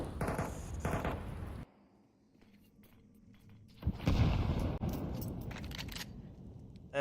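Rapid gunfire bursts in a Rainbow Six Siege pro league match, a loud burst at the start, then a quieter stretch and renewed heavy firing near the end, with game ambience throughout.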